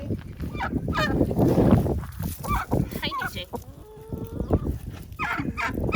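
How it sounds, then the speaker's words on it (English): Chickens and turkeys, a blue slate turkey among them, call in an outdoor sanctuary pen: honks, clucks and gobbles come in bursts at close range, and a person briefly speaks a greeting among them. "The birds that you're seeing here are chickens and turkeys."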